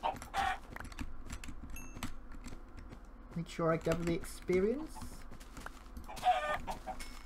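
Chickens cluck in the retro Minecraft 1.1 survival game, a cluster of short clucks in the middle amid clicking keys and game sounds, with someone talking at the start and end.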